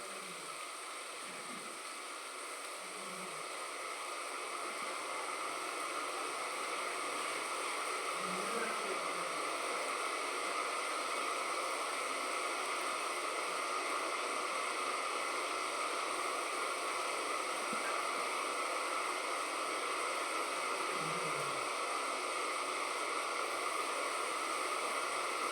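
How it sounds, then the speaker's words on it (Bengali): Flat beans fry in the small amount of oil left over from frying potatoes, a steady, even hiss that holds throughout with a few faint low knocks. "ওই তেল যেটুকু আছে তার মধ্যে আমি শিমটাও ভেজে নেব"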